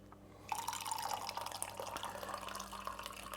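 Fresh hot coffee poured into a mug for Irish coffee, a close continuous pouring and trickling stream that starts abruptly and runs steadily to the end.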